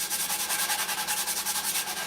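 Sandpaper scrubs rapidly back and forth over wood coated with dried, chippy milk paint, a close, steady rasping of even, repeated strokes with no talking.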